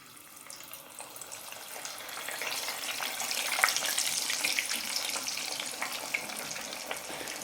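Homemade hash browns frying in hot oil at about 180 degrees, a steady close crackling sizzle that swells slightly and holds, with no voices.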